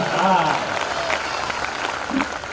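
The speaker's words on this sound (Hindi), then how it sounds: "तालियां बजा दीजिए" Clapping from an audience at a Hindi kavi sammelan poetry event in Gadarwara, fairly soft and mixed with crowd murmur and brief voices over a short stretch.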